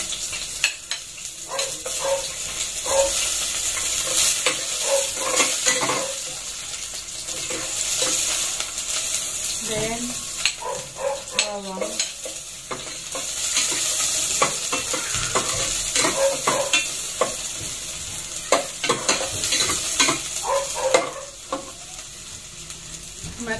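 Garlic and onion fry in oil with a loud, continuous sizzle, broken up by frequent stirring and scraping of a utensil against the pan.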